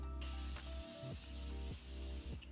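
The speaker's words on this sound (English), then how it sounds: "I'm gonna spray so many different sprays on my face right now." A steady, close hiss of an aerosol setting spray sprayed onto a face, running continuously for a couple of seconds, with a brief break partway through.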